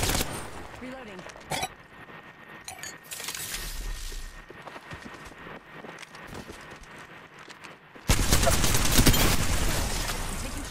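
Rapid video-game gunfire in bursts during a team shooter match, with voices calling out over it; the shooting grows loud and dense near the end.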